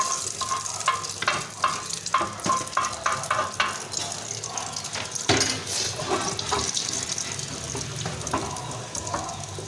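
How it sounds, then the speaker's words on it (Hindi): A burger tikki patty fries in hot oil in a street-style home kitchen, giving a quiet steady sizzle broken by scraping and stirring taps from a utensil, with no talk. "और ये मैंने ऑयल जो है तो गर्म हो गया। अभी ये टिक्की मैंने इधर से इसको टिक्की को डाल दूँगी।"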